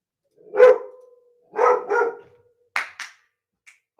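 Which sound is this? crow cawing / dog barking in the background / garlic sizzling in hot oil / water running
dog barking in the background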